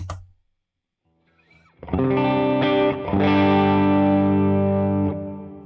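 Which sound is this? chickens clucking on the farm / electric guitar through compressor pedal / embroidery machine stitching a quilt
electric guitar through compressor pedal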